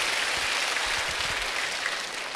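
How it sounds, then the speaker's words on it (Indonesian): A university audience at a leadership talk breaks into applause for a student, a dense, even wash of many hands clapping continuously at a moderate level. "Kasih tepuk tangan nih buat Farid."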